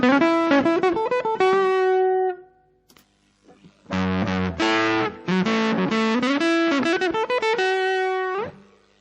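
Loud electric guitar riffs through the thick fuzz distortion of a DIY Fuzz Face pedal, a chugging phrase, a short pause, then more sustained buzzing notes.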